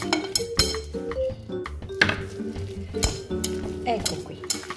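Coconut flour being mixed into a cauliflower mixture for air-fried keto meatballs, with close scraping and stirring, clinks of a utensil against a bowl and soft knocks.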